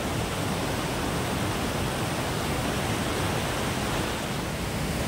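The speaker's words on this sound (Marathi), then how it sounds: "तुम्ही बघू शकता माझ्या मागे खूप सुंदर असं पाण्याचा प्रवाह दोन्ही बाजूने रस्त्याच्या." Water rushing along both sides of the road near Kondagaon Dam in Maharashtra makes a steady, dense broadband roar, close and unbroken, with no voices.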